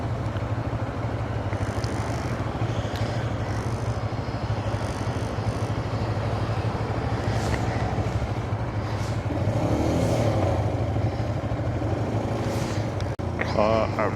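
A CFMoto 650MT motorcycle rides steadily and makes a U-turn on a road, its engine a continuous low drone under strong wind rush throughout, with a brief change in tone near the end.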